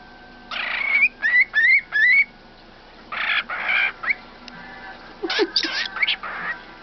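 Pet bird imitating a ringing telephone, giving several rapid, close, whistled ring-like trills in bursts separated by short pauses, with a voice speaking softly between them.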